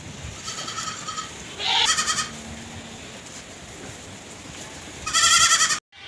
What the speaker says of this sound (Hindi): ये पूरी भेड़ें खजूरों के लिए रो रही हैं, इनको खजूर चाहिए।